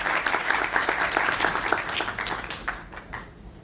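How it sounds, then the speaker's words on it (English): An audience at a hackathon speaker event claps in welcome for a speaker, a dense burst of applause that thins out into a few scattered claps after about two and a half seconds. "give a warm round of applause for our speaker, Neeraj Duna"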